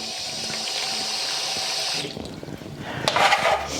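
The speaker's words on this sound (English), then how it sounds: "So I need to put water on the bottom." Tap water runs steadily into the base of an egg cooker in a home kitchen, a close rushing flow that changes pitch and splashes harder as the level rises near the end.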